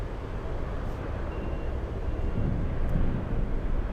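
Lockheed C-130 Hercules engine roar at Anchorage airport in gusty wind, a steady broad drone that swells slightly louder toward the end, heard at a distance without talk.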